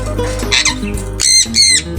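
Harsh bird squawks at Goshen Farm ring out in two loud bursts near the end, after softer chirps over a low steady hum.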